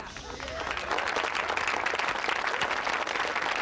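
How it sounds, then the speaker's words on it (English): An audience applauds at an awards ceremony in a TV movie, a dense continuous wash of clapping that swells after a brief start and holds steady, with some talk beneath. "Again, please hold your applause until the end."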